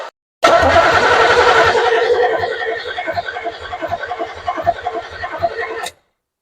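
A Chevy 350 engine in a third-generation car cranking over: a loud, rapid rhythmic churn from the starter that holds for several seconds, fading slightly and turning more uneven before stopping abruptly.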